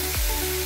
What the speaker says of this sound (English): add sugar and the grated coconut. Keep stirring occasionally and let it become hot.